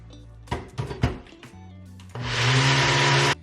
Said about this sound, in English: Maybe use a bigger blender or just divide it in half and blend